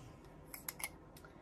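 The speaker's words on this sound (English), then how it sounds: "So all I do, I take my scissors," Scissors snip a few quick times at a paper pop-up piece for a card, faint crisp clicks over a quiet background hiss.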